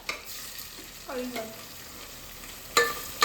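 Dill and onion frying together in a pan, with a steady low sizzle and occasional scrapes and clinks of stirring, a couple of sharper knocks near the end; no one talks.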